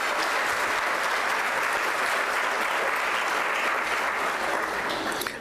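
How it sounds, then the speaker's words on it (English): A room full of guests at a Boston valedictorians luncheon claps long and loudly, a dense, steady wash of applause that holds level for several seconds before starting to fade. "extra special, big clap."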